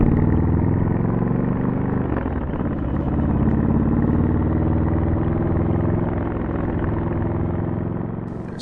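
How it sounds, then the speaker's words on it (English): A 2019 Triumph Scrambler 1200 XE motorcycle idling through its stock exhaust, a steady, close, deep rumbling drone with a slight dip in level partway through and no talking. "The stock exhaust sounds as good as the stock exhaust could."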